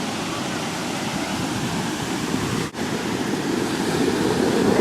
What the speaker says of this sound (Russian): Вот это я понимаю, волны.